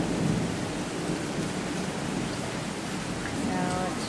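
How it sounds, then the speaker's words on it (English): Heavy rain pours steadily in Brisbane during flooding, with rumbling thunder under a dense, even wash of downpour that fills the whole stretch. "it is raining big time here in Brisbane"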